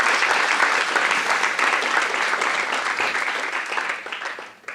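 Steady, dense clapping from a live audience at a Hindi motivational talk, loud and sustained for several seconds before tapering slightly at the end, with no voices over it.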